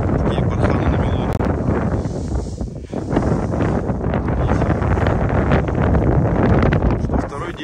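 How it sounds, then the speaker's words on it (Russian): Strong wind roars across a frozen sea in a snowstorm, buffeting the microphone with constant loud rumbling gusts that dip briefly midway. "пошел очень мощный снег и ветер"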